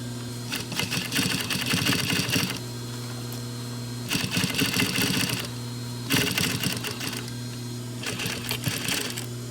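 A sewing machine runs top stitching on jeans in three bursts of rapid, loud clattering stitches separated by short pauses with a steady motor hum underneath.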